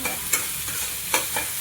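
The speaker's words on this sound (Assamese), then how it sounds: "অকণমান পিঁয়াজটো কাটি ভাজি লৈছোঁ" Chopped onion frying in hot oil in a home kitchen, a steady close sizzle broken by a few sharp scraping stirs of the pan, with no talking.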